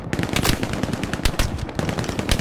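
Rapid machine gun fire from the video game Hell Let Loose, a dense, loud stream of repeated shots, with no speech.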